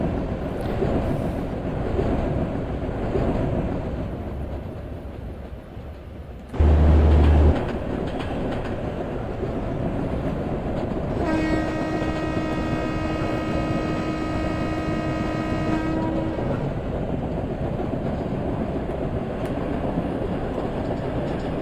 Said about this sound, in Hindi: कामा यानी एक्सप्रेस प्लेटफॉर्म नंबर 3 पे आ रही है